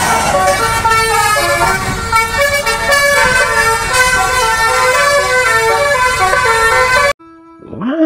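Persela Lamongan team bus passing with a loud, continuous melodic horn playing a multi-tone tune for about seven seconds, cutting off abruptly near the end with a brief engine swell.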